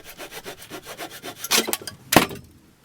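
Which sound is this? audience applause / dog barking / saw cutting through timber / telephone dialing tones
saw cutting through timber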